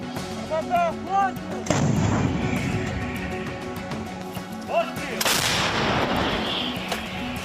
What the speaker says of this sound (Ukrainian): Наші воїни отримали цю американську гаубицю.